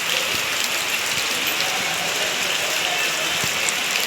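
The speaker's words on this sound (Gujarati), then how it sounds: "જો વરસાદ પાછો ચાલુ થઈ ગયો છે" Rain falls steadily over a village, a constant broad hiss with occasional sharper drips and taps, near and unbroken.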